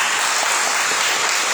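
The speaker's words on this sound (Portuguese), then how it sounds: "Eu não sei se a gente já começa a salva de palmas agora." Dense, even applause from an audience at a lecture on US–China rivalry, a continuous wash of many hands clapping throughout.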